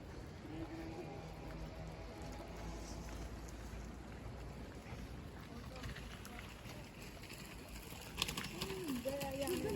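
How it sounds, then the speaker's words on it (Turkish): Steady rain falling on the hillside at Hıdırlık in Safranbolu, a continuous hiss under someone talking, with a few distant bird calls. "şu an yağmur yağıyor Safranbolu'da"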